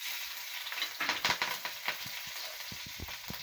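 Green chillies sizzle in hot oil over a full flame, a loud crackling spatter close by, with sharp pops and stirring knocks toward the end, no voices.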